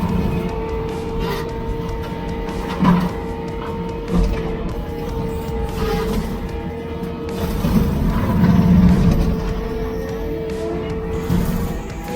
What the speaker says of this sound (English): We're very pleased with this mower. It's stout enough to take down a pretty good sized tree, chew it up real nice.